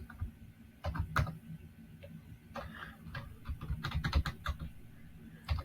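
Quiet, close typing on a computer keyboard while coding a website with HTML, CSS and JavaScript, with scattered clicky keystrokes picking up into quicker bursts, alone without talk.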